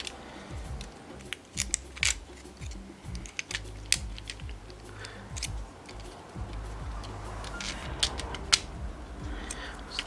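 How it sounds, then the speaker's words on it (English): Small plastic part being pried and clicked off a PS4 V1 controller shell during a shell replacement, giving a dense run of close, sharp snaps, ticks and scraping clicks throughout. "You need to take off this little plastic bit at the front."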